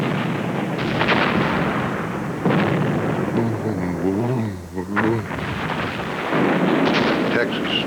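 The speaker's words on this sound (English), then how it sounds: "It is the largest naval bombardment in history." Naval bombardment of the Omaha Beach coastline on D-Day, with the battleship Texas firing 2,000-pound shells. A continuous, heavy rumbling barrage of overlapping booms fills the whole stretch, and a brief voice-like tone rises through the middle.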